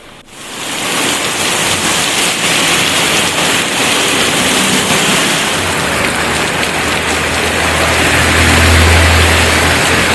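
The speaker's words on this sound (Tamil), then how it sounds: "மதுரை மாவட்டம் உசிலம்பட்டி அருகே எழுமலை மற்றும் அதன் சுற்றுவட்டார பகுதிகளில் பரவலாக மழை பெய்தது" Heavy rain pours steadily across Ezhumalai near Usilampatti in Madurai district, a loud dense hiss of downpour that continues unbroken throughout with no voices.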